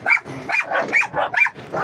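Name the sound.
dog barking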